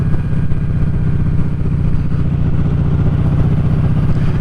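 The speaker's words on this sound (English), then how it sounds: "Pull away, second gear easy, just chugs round that corner." A Kawasaki Vulcan Vaquero motorcycle engine chugs steadily in second gear as it pulls away and rounds a corner, its loud, even low thumping continuous and close, with no voices.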